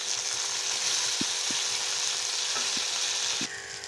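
Capsicum curry with a light dusting of turmeric crackles and sizzles in a hot pan, a steady loud hiss with a few soft spoon knocks against the pan as it is stirred, no talking.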